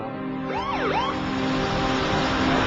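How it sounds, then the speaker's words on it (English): A police car siren at night in an Arab neighborhood in Israel sweeps up and down in one clear wail over a steady roar of traffic and a low hum. "that night a police car happened to be in the area."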